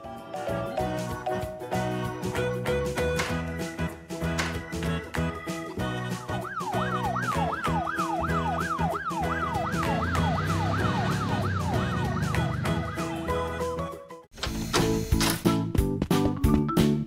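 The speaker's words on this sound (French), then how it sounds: "Activons la lumière et les sirènes!" Emergency vehicle sirens sweep up and down in a repeating wail, playing continuously over loud, busy children's cartoon music about fire trucks and rescue vehicles, with no talk heard.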